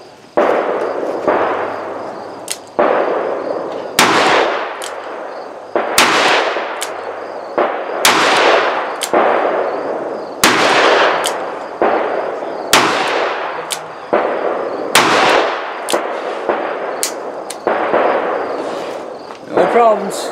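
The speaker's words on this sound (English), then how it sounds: "Gonna shoot another cylinder full." A Smith & Wesson Model 28 Highway Patrolman .357 Magnum revolver fires a cylinder of loud, sharp shots at an outdoor range, each crack followed by a decaying echo, spaced roughly one to two seconds apart.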